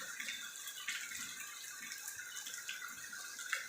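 Steady rain falls over the Visayas countryside as a broad, even hiss with faint scattered patters and drips, continuous and close.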